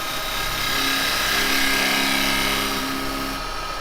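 A spindle gouge cutting a dovetail tenon on a wood lathe gives a steady, loud scraping whir with a motor hum beneath, continuous throughout and easing slightly at the end.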